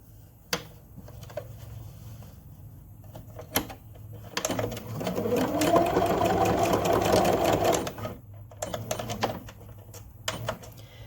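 A sewing machine runs a straight stitch along a fabric face mask, sealing in a twist-tie nose piece, with a sustained whirring burst of several seconds between scattered clicks and handling noises, close and moderately loud.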